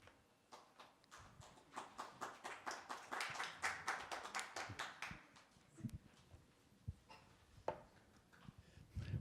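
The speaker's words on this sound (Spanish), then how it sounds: "Bravo, un aplauso para él." Audience applause at a sign language glossary launch event, sparse, distinct claps in an uneven rhythm that thin out after a few seconds, fairly faint, with scattered knocks and no talking.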